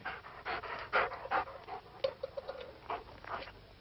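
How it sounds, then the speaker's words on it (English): Dogs panting in rapid, uneven bursts close by, with faint whimpering touches and no talk, set in an eerie werewolf horror drama. "The dogs."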